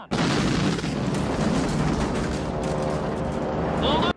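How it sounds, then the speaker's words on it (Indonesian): A loud, sustained explosion roars from a World War II bomber air battle in the film Memphis Belle, a dense blast rumble filling about four seconds before cutting off abruptly. "Setelah ledakan tersebut,"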